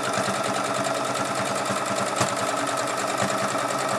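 A sewing machine stitches the seam of pajama pants in a fast, even mechanical rhythm, close and loud, with a couple of sharper clicks partway through and no talking.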